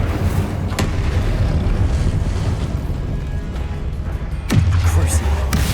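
Incendio fire spell being cast in the video game Hogwarts Legacy: a loud, continuous roaring, gusty rush with sharp bursts near the start and near the end, the second followed by a heavier surge.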